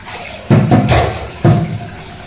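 Lentils being rinsed in a home kitchen: two loud splashing gushes of tap water hit the pot, each followed by a softer, fading swirl and trickle.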